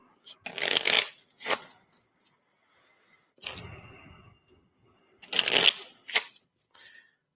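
A deck of tarot cards is shuffled by hand in several separate riffling bursts, crisp and close, with pauses between them and brief, quiet talk in one gap.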